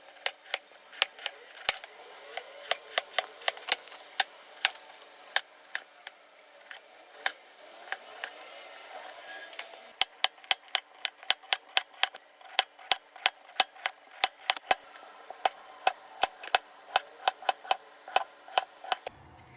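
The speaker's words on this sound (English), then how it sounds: "Cut these potatoes on tiny slices." A knife slicing potatoes into very thin slices, sharp crisp chops landing in a fast, steady rhythm of dozens of close, clear cuts with no talking.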